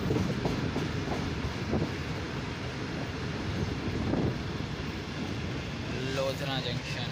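The Karakoram Express rolls through Lodhran Junction on the Bahawalpur to Lahore route, a steady loud rumble with faint rhythmic clacking, heard from aboard with a voice talking over it.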